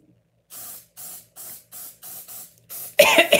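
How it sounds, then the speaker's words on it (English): A chemical spray can is spritzed onto a cast iron lamb cake mold in short hissing bursts, seven even pulses in a steady rhythm, then a louder, rougher blast at the end, close and with no talking. "Will this chemical spray give me cancer?"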